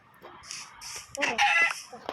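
A rooster crows nearby, a loud drawn-out call that rises then trails off, with a few lighter sounds before it.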